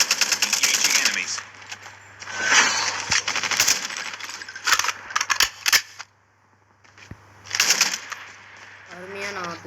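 Gunfire in a Minecraft-style Call of Duty battle royale game: bursts of sharp, rapid clicky shots and impacts, loud and close, broken by brief pauses, with a voice talking over parts of the action.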